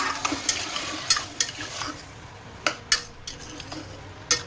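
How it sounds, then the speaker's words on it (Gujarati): Grated bottle gourd sautés in ghee inside a pressure cooker, with a quiet sizzle under repeated sharp clinks and scrapes of a metal spoon stirring against the pot. "થોડુંક ઘી મૂકી અને દૂધીનું છીણ એમાં સહેજ સોતણી નાખ્યું"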